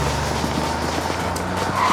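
A stolen car's tires skid and squeal as it speeds away during a chase game, loud, sustained engine and tire noise close by with no talking.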